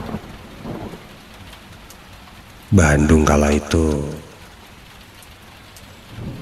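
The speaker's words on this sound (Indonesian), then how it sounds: "tiba-tiba saja hujan turun sangat deras." A heavy downpour, used as a sound effect in an Indonesian radio horror drama set in Bandung, roars in a steady wash while a narrator speaks briefly over it.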